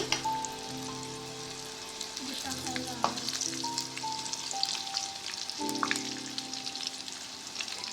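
Brinjals cook in a pan for a karam dish, a continuous rain-like sizzle with occasional stirring clatter, heard up close over a faint steady background hum.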